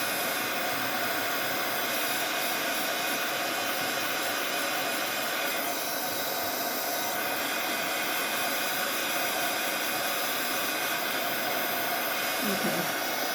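A hair dryer blowing steadily on a damp napkin keychain, a loud continuous whooshing hum held at near-constant strength throughout.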